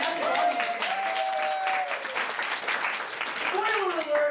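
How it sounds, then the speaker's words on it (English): An audience at a short-form improv comedy show claps steadily in sustained applause, with a voice speaking over the clapping. "Give yourselves a round of applause for being a fantastic audience."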